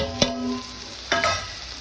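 Ground masala paste is stirred into a hot pan for mutton curry. Two distinct scraping strokes of the spatula ring out close by over a low, steady sizzle, with no talking.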